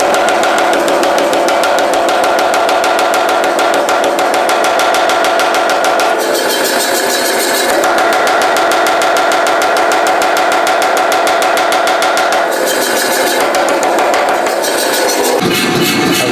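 Anyang power hammer forging a railroad spike into bolt jaw tongs, a loud, continuous rapid pounding that runs steadily throughout, with brief shifts in tone as the workpiece is moved.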